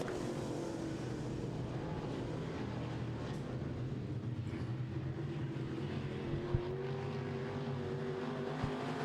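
Midwest Modified race cars roar around a dirt oval in a heat race, a dense, continuous engine drone with rising and falling revs, steady and moderately distant, with no voices.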